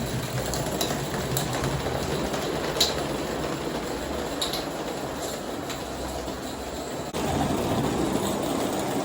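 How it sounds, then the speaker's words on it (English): An Accucraft Ruby live steam model locomotive runs continuously with a steady mechanical rumble and light rhythmic clicking, heard close and alone. "This is clearly an express train."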